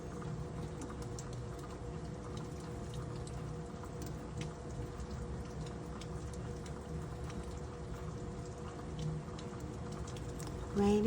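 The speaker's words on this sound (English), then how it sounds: "Wow, look at the rain." Steady rain falling on a rainy day, a dense continuous patter of drops spread evenly across the whole stretch, moderately loud with no talking over it.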